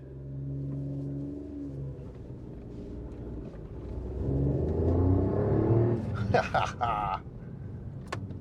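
A Daewoo Matiz engine rumbles from inside the cabin, rising as it picks up speed, with a brief rattling clatter near the end and talk under it.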